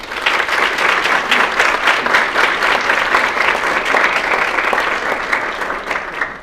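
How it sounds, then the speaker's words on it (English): Loud, steady applause fills a graduation-style ceremony for physical therapy students honouring their loved ones and guests, a dense continuous wash of many hands clapping at close range throughout. "can you give your loved ones and guests a round of applause?"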